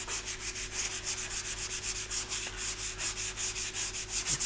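Primer on a surface is sanded by hand to remove pinholes. Close, steady back-and-forth rasping strokes repeat in an even rhythm, about three per second, without pause.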